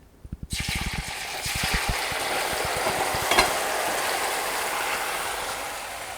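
A few quick clicks, then a loud sudden sizzle as a mixer-ground paste for urad dal kadhan hits hot ghee, settling into a steady crackling fry that fills the rest.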